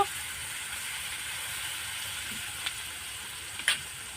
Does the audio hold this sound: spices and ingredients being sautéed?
yes